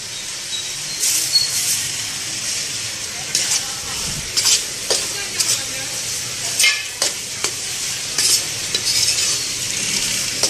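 Dal and magaj seeds dry roasting in a pan for panjiri, with a steady granular hiss and frequent scraping stir strokes up close, no talking.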